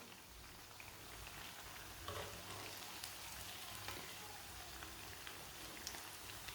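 Potato tikki frying in a pan with little oil, giving a steady soft sizzle and crackle throughout, fairly quiet and continuous with no talking.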